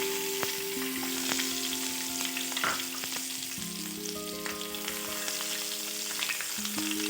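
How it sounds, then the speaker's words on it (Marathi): Chopped garlic fries with cumin seeds in hot oil, giving a steady, close sizzle and crackle that runs unbroken throughout, with no talking. "लसणाला थोडंसं फ्राय करायचं आहे यामध्ये।"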